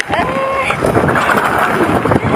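Strong gusts buffet the microphone in a loud, rough roar, with some faint tonal sounds in the background.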